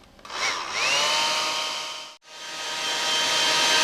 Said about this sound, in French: Dernier petit coup de sèche-cheveux.